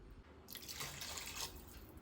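About one and a half cups of water are poured into a pot of rice and masala for a one-pot kuska biryani, giving a soft, brief splash of about a second, quiet and close, with no speech.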